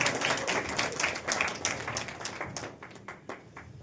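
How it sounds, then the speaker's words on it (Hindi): Church congregation clapping hands together at a worship service, a dense, steady burst of applause that stays loud before thinning slightly toward the end. "सभी लोग जोर से तालियां बजाएं।"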